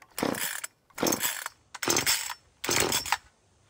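An ECHO micro chainsaw, set on choke, gives four short rasping bursts separated by brief pauses, loud and close as it sputters without settling into a steady run.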